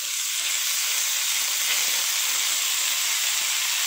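Ground pork or beef sizzles steadily in a pan of fried onions, a constant dense hiss with no talk over it.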